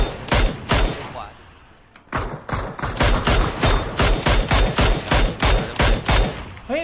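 Gunfire from the right side in a shooter video game: loud, sharp shots in rapid volleys, around two dozen cracks with a short lull near the two-second mark, close and dominant throughout.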